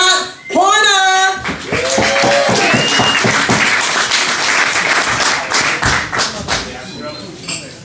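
Comedy club audience at McCormack's Irish pub cheers and applauds as a comedian is brought on stage, with loud, sustained clapping and whoops mixed with an announcer's voice and scattered shouts.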